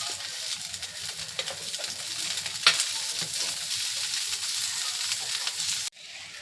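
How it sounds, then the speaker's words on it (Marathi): Ghavan crepes frying in oil on a hot griddle, a continuous close sizzle with a brief louder crackle midway, cutting off abruptly near the end; no one speaks. "साईडनी छान तेल सोडायचं आणि एका साईडने अगदी छान भाजून घ्यायचं,"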